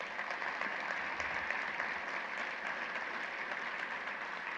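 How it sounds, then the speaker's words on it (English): Round of applause from a general session audience for a colleague, a steady, fairly distant and soft wash of clapping from a large room, with no one speaking over it. "Let's give Elena a round of applause."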